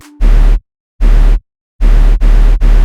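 Loud bursts of distorted synth sub bass for tearout dubstep, layered with harsh noise, separated by silences, then three rapid back-to-back hits near the end.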